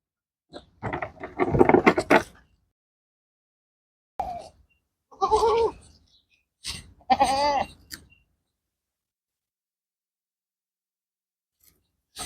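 Goats bleat in several separate bursts, some short and some drawn out, close by with quiet gaps between calls.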